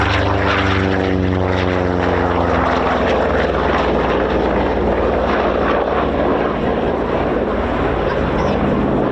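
A Republic P-47D Thunderbolt propeller fighter flies at the RAF Cosford air show, its loud, throbbing radial engine drone continuous and close, with a pitch sweep suggesting a pass overhead.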